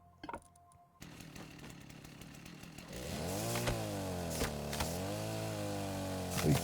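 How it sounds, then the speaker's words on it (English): A chainsaw in the Rust video game, starting with a few brief clicks and a short rev, then roaring loud and close at a sustained whine with its pitch rising and falling as it cuts. "I'm always apprehensive, shall we say, when I'm using the chainsaw because it is super noisy"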